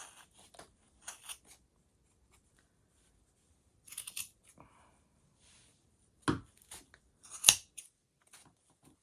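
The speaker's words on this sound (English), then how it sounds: "Now I'm going to pick up my sewing scissors." Long, sharp sewing scissors snip through chunky yarn in a few separate bursts with pauses between, close and fairly crisp, with the last two cuts the loudest.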